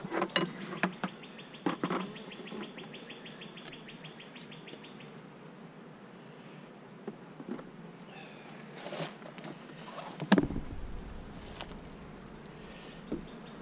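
Honey bees buzz around an open hive during a frame inspection, a steady close insect drone with sharp clicks and handling knocks, and a brief louder thump near the end.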